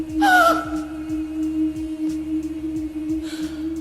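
A sharp, breathy gasp at the start, with a second softer intake later over a steady low musical drone.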